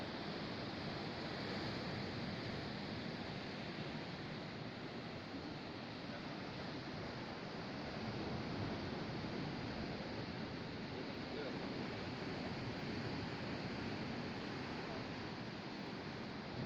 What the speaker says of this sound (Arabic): ما شاء الله هنا البحر، يعني راحة نفسية ما شاء الله